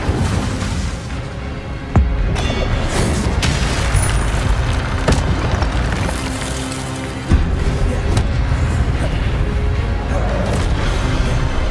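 A fiery spell effect in a video game lets out loud, close booms and whooshing bursts, with sharp hits at about two and seven seconds over a constant roaring rumble.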